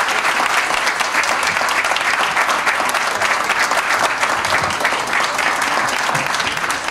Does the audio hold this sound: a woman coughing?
no